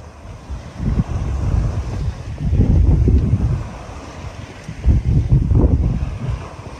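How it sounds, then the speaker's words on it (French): Strong Force 4 wind at about 15 knots buffeting the microphone in gusts aboard a sailboat off Turkey's Gökova bay, with a deep rumbling roar of open water and waves underneath, loud and continuous. "petit Force 4, 15 nœuds de vent. Très serré. Belle mer."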